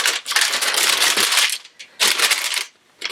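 Chilled biscuit dough is unwrapped from its plastic or paper, making loud, close crinkling and rustling in two long bursts with a short pause between and a third starting at the end, with no talk.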